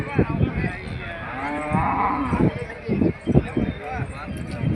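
Cattle at the crowded Nolvi livestock market, where cows and bullocks are traded, give a drawn-out low moo close by, amid the murmur and shuffle of the busy market and people talking.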